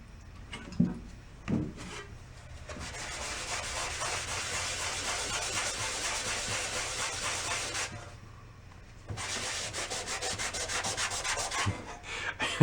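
Steady rag rubbing with lacquer thinner on a spot of a vintage 1950s cola thermometer: a continuous close, dry scrubbing hiss that runs for several seconds, pauses briefly, then resumes with the same even rhythm.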